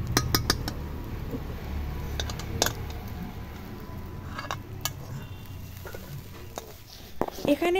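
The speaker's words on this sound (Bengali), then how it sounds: "এখানে এবারে হলুদ গুঁড়ো, লঙ্কা গুঁড়ো দিয়ে ভালো করে নেড়ে নেওয়া হচ্ছে।" A pan of potatoes with turmeric and chili powder is stirred, giving irregular metallic clinks and scrapes of utensil on cookware over a low background, with some talk.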